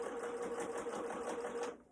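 A home sewing machine runs at a fast, even stitch rhythm while backstitching the end of a seam on a fabric face mask, humming close and steady before stopping abruptly.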